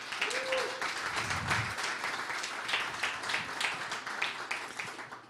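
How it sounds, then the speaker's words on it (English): Audience applause at a startup pitch event in Green Bay, Wisconsin, a moderate crowd clapping steadily at some distance, with a brief voice early on. "So please give them a round of applause."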